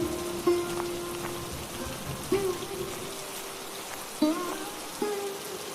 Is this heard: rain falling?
yes